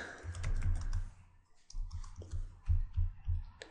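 Keystrokes on a computer keyboard as a command is entered: clusters of close, muffled taps with a short pause partway through, then more quick presses.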